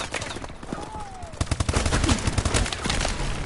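AK-47 fire in a video game: rapid automatic bursts of loud cracking shots, building from scattered reports into a dense stream over game background noise.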